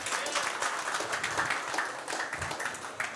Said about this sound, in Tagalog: pumalakpak nga ng malakas